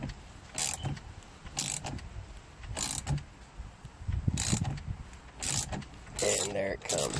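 A ratchet cranks a 5/8 nut at the center of a 2001 Dodge Dakota steering wheel, its rapid clicking bursts repeating about six times in a steady rhythm with short pauses between strokes, close and clear.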